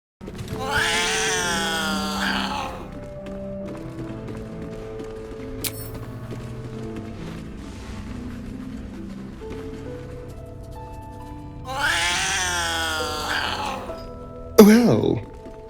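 A cat in Baldur's Gate 3 lets out drawn-out vocal meows, two longer calls separated by a quiet stretch of low ambient background, with a short sharp sound near the end.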